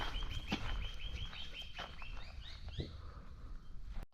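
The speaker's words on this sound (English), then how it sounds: "enjoy the birds" Birds sing outdoors in sunshine, with repeated high chirps and whistled calls against a constant breezy outdoor background.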